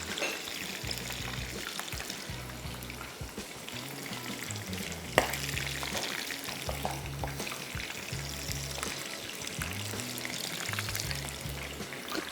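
Medium-sized prawns fry in a wok with a steady, moderate sizzle and bubbling, while a low rhythmic hum pulses underneath throughout.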